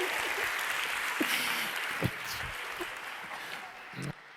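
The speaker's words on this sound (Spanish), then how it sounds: "Bien, un buen aplauso, papá." Steady applause from an audience fills the room as a broad, continuous wash of clapping at moderate level, with a few louder bumps and voices faintly underneath.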